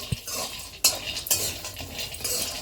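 Almonds and cashews dry-roast in a pan, giving a loose rattling hiss with a few sharp clatters and scrapes as a utensil stirs them, close and moderately loud, without talking.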